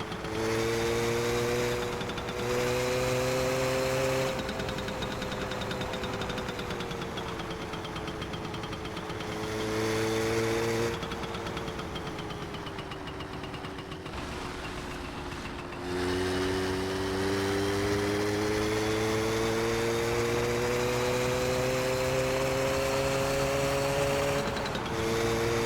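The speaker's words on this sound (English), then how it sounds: "The ambient noise has somebody with a chainsaw." Ambient noise in the video game My Summer Car has a chainsaw droning somewhere, a steady buzzing engine tone that dips and surges in pitch over about half a minute, with brief gaps between bursts.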